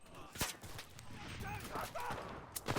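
Gunfire and explosions from a desert battle in the video game Enlisted. Sharp cracks and blasts punch through a continuous rattle of more distant shooting.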